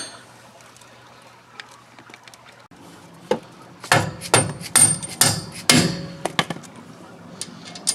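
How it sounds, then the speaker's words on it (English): A metal bar taps and knocks against a truck's traction bar to line up a bolt hole, a handful of sharp metallic strikes in quick succession after a few quieter taps, close and loud. "Use a bar, get a little persuasion there to get things just lined up perfect"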